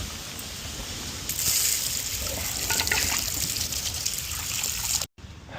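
Tap water runs steadily as an outer cap is rinsed and washed under the stream, a loud splashing trickle that swells midway and then cuts off abruptly near the end.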